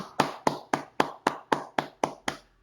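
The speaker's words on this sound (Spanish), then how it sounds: "un aplauso fuerte para cada uno" Nine sharp, evenly spaced claps ring out one after another, close and fairly loud, then stop.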